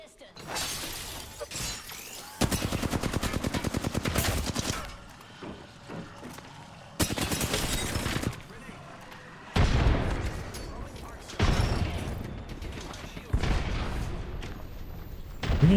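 Rapid game gunfire from an online shooter match, bursts of loud automatic fire and sharp shots repeating in clusters with short gaps, close and harsh, with people talking over the action.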